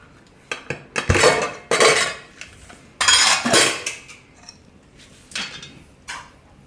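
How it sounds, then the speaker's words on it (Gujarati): A metal pressure cooker is handled and opened after boiling pearl millet, giving loud clanks and scraping rattles of the lid and utensils in irregular bursts, close up, with no talking. "ખોલીને જોઈ લઈએ હવે"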